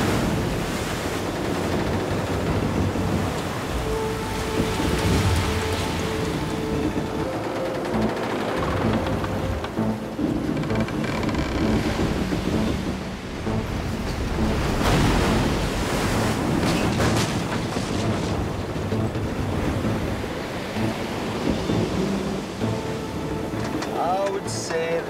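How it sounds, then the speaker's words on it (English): Rough sea churns around a ship, a continuous broad wash of surging waves and wind buffeting the microphone, swelling and easing over a long stretch without speech. "Within 20 minutes, we're in pretty rough water."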